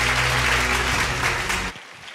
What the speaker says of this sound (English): With a resounding round of applause, welcome, Maximus Ametorgoh.